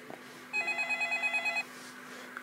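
A telephone rings once in a single trilling burst of rapid pulses, clear and fairly close, over a faint steady hum, with no talking.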